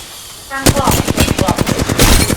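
Rapid automatic gunfire from the video game Apex Legends bursts in after a brief quiet lead-in, a loud sustained string of shots with no speech over it.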